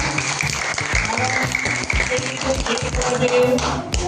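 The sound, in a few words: audience clapping for a quiz contestant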